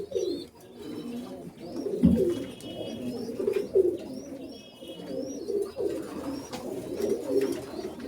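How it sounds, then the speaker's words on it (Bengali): Imported pigeons, paired up in coop boxes and sitting on eggs and chicks, coo in soft repeated rolling calls with a few faint chirps, moderately close and steady throughout, no voices. "প্রতিটা খোপেই জোড়ায় জোড়া কবুতর আছে"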